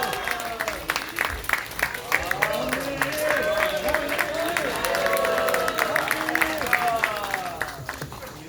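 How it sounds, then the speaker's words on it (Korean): Warm applause from a crowd at a political party founding convention in a hall, many hands clapping steadily with some cheering, while a voice speaks over the clapping throughout. "뜨겁게 박수 보내주시면"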